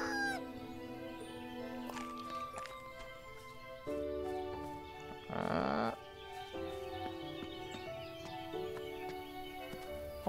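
A rooster in the farming video game Everdream Valley gives a short, loud crow-like call midway through, rising over steady melodic background music, with faint clucking-like game sounds around it.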